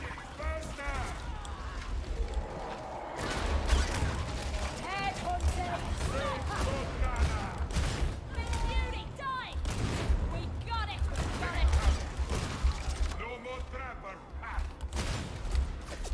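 Bolter gunfire and other weapon fire in the co-op shooter game Warhammer 40K Darktide, with bursts of shots and combat noise running throughout under continual voice chat.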